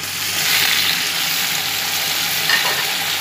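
Tomatoes and biryani masala fry with meat in a pot for Sindhi biryani, a loud, close, steady sizzle with faint stirring scrapes and no talking.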